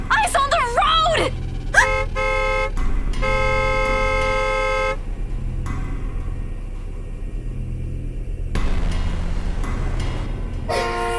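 Car horn honking in a horror visual novel game, a series of sustained tonal blasts repeating over several seconds amid game music and rumble, with a voice shouting briefly at the start.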